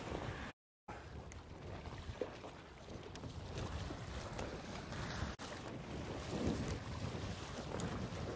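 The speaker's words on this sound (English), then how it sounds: "it's about halfway through a force 4 towards 5 just now. A little bit on and off with the wind, as it tends to be." Wind rushing past while windsurfing at Vasiliki in force 4 to 5 conditions on a 5.7 m sail, a steady roar of wind buffeting and water noise with no talk and one brief dropout.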